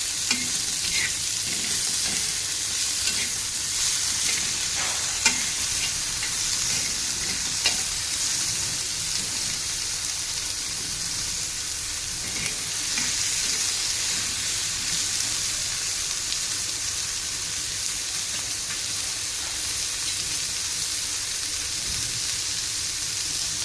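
Tomato and green chillies frying in a spoonful of oil in a pan, a continuous close sizzle with soft crackles and occasional scrapes of stirring, no voices.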